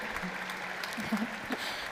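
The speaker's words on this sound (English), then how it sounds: "a big round of applause for our three first guests" Distant applause from a crowd, a soft steady patter of clapping with faint voices mixed in.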